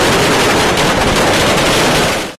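Firecrackers bursting in a dense, continuous crackling barrage at a street celebration of an election victory in Tamil Nadu, loud and close for about two seconds before cutting off, with no voices heard.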